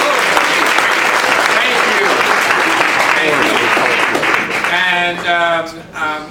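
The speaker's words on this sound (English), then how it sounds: "What we like to do is open up the show with applause" Studio audience applause during a show rehearsal, a dense sustained wash of clapping that fades out near the end as voices begin talking over it.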